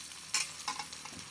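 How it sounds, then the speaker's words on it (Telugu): Gongura leaves hiss and sizzle in a hot pan for egg curry, with a couple of soft stirring scrapes over a low, steady frying crackle. "మళ్ళీ ఇలా గోంగూర వేసేయండి"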